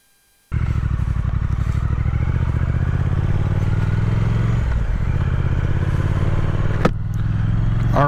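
An older Triumph Speed Twin motorcycle starts up abruptly and idles loud and close, a steady throbbing twin-cylinder engine with a brief dip and slight rev change, ridden on a sunny cold day in Montana.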